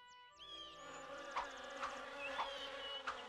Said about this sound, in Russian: Бедные пчелы. Не дают им богатыри покоя.